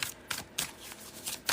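Tarot cards being shuffled by hand, a series of quick soft riffling bursts about four or five times in close succession, fairly quiet and near with no speech.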